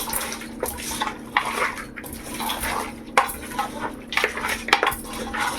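Mutton pieces mixed by hand with lemon juice and ginger garlic paste in a dish give wet squelching and scraping with occasional clinks against the bowl, continuous and close.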